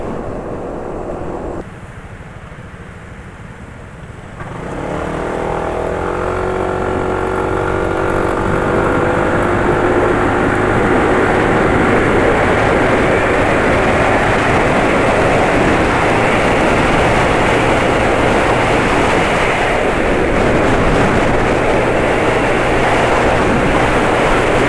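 A motorcycle engine running on Unioil Turbo SAE 40 diesel engine oil gives a loud, steady, close rumble that dips briefly near the start, then swells and holds.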